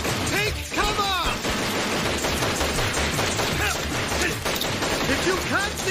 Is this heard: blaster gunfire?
yes